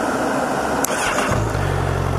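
A hot 2017 Honda CBR1000RR SP motorcycle engine restarts after a brief starter whir, then settles into a steady, close, rumbling idle.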